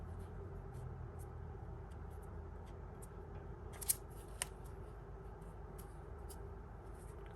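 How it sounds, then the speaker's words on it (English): Scissors snip through paper florals in faint, scattered cuts at close range, over a soft, steady background hum. "I'll cut that and just rip that down."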